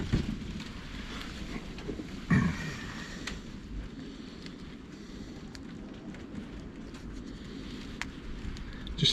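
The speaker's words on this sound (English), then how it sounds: "bit of a wind getting up out there" Wind blows outdoors while chili seeds are sown, a faint low steady rush with gusty buffeting and a few soft bumps nearby, no speech.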